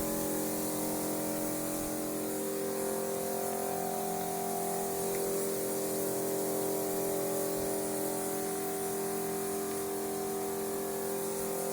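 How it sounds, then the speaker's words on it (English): A battery-powered Hudson 4-gallon backpack sprayer runs steadily for carpet cleaning, giving a continuous motorized hum and hiss that stays even and loud throughout with no talking. "But it don't spray out hard like a pump sprayer"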